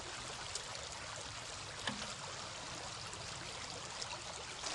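Water and gravel pour steadily through a gold-prospecting sluice, a continuous close rushing trickle with a few brief splashes and clinks, no voices.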